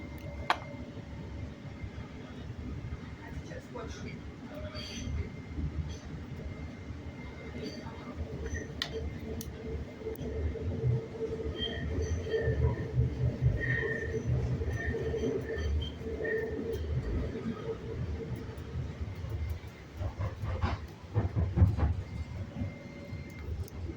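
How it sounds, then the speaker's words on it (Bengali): A train rumbles steadily along at moderate volume, with low rolling noise, occasional clicks and clatters, and no clear talking. "গাড়ির থেকে ট্রেন থেকে নামতেছি"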